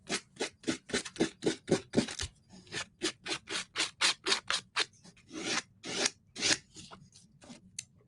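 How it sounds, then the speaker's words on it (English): A decoupage-covered chunky craft block is sanded by hand with quick, rhythmic rasping strokes, each a short scratchy burst close by, repeating steadily with brief pauses between runs. "I'm only have to sand down here, so I'm just kind of making sure that feels good and dry."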